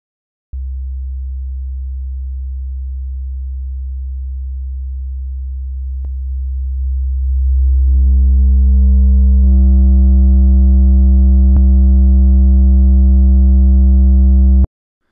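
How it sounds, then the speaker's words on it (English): A loud, steady low sine tone that swells and turns buzzy and richer midway, as a saturator's clipping distortion adds harmonics, holding on alone to the end. "what happens to the sine wave when we introduce clipping"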